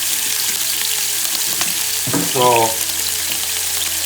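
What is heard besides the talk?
oxtail searing in a pan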